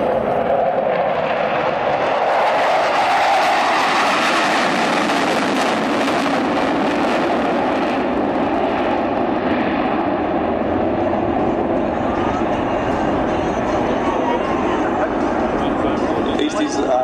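Military jets accelerate with afterburner at the 2014 Point Cook Airshow: a loud, sustained, broadband roar that rumbles and builds over many seconds, with a commentator talking over it.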